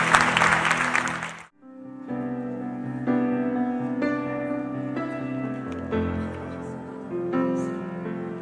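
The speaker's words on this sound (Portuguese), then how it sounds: "Pode aplaudir o nome do Senhor." Applause from a church congregation during an evening worship celebration, a dense burst of clapping at the start that cuts off sharply and gives way to sustained music.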